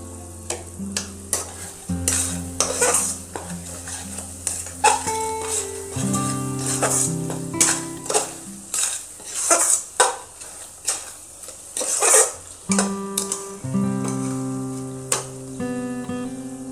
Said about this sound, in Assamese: এইভাৱে লাৰি থাকিব লাগিব, নহ'লে তলত লাগি ধৰিব